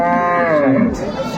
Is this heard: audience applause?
no